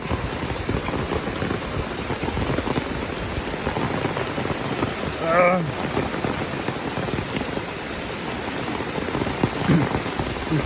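Heavy rain falls steadily and close by, a dense continuous patter with a brief louder burst midway; a voice is briefly heard under the downpour.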